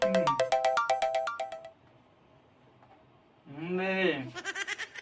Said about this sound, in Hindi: फोन आता है